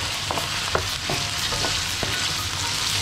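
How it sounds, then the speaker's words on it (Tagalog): Squid sizzles and fries steadily in a hot pan for seafood spaghetti, a continuous crackling hiss with occasional small pops and stirring clicks, close and alone without talk. "3 to 4 minutes lang natin lutuin yung pusit, guys."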